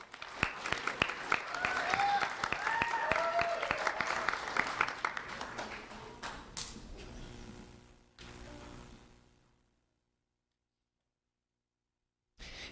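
An audience applauds a young elementary school student at a sheriff's office recognition event, a burst of clapping that thins out and fades to silence near the end.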